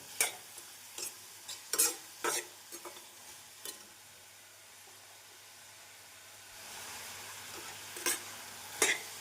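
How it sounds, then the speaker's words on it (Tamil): Ginger garlic paste and chopped green chilies sautéing in a hot pan, with a steady frying hiss and several sharp scraping clinks of a utensil, close and moderately loud. "இஞ்சி பூண்டு விழுந்து சேர்த்து நன்றாக வதக்கிய பின் நறுக்கிய பச்சை மிளகாயை சேர்த்து விடுங்கள்"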